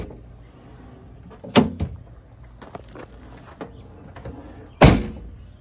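A Honda Civic door is opened and shut, giving two loud, close thunks a few seconds apart with softer handling rattles between them.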